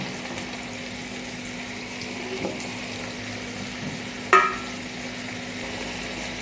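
Sliced potatoes, cut lengthwise, frying in oil for a capsicum-potato bhaji, giving a low, steady sizzle with one sharp stirring clatter near the end.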